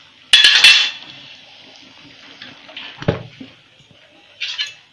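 Malvani chicken curry is ladled from a pot, with a loud metallic clink and scrape of a ladle against the pot at the start, then quieter liquid pouring, a dull knock and a final clatter.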